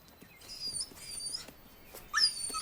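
A dog whimpers and yips in a few short, high, faint cries spread across a quiet stretch, with no other sounds around it.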